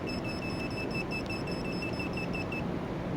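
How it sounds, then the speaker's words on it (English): Handheld beeper from a two-way wireless bicycle alarm emits a rapid, steady series of high electronic beeps that stops shortly before the end, heard alone over a faint background hiss. "the handheld beeper will let you know that your bike is being tampered with."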